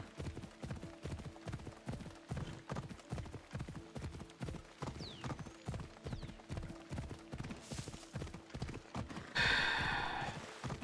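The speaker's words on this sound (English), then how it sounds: "The horse is still here. Let's go. Let's ride." Horse hooves gallop in Assassin's Creed Odyssey, a quick, even clip-clop rhythm pounding steadily throughout, closing with a brief burst of louder noise.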